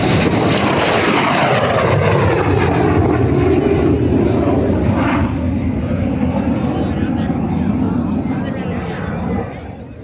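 A Russian MiG-17 jet fighter roars past at an air show at Dover Air Force Base, a loud sweeping jet rush that swells and then recedes, with a commentator talking over it.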